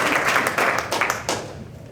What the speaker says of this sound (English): I thought for sure I'd get a hand clap right there.